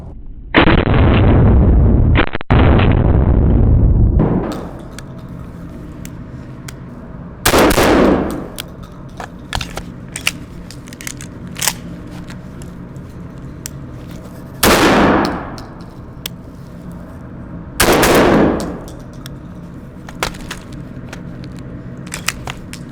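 A gun fired with slug rounds during reload drills: loud, close blasts at spaced intervals, each with a booming echo, preceded by sustained rumbling noise in the first few seconds.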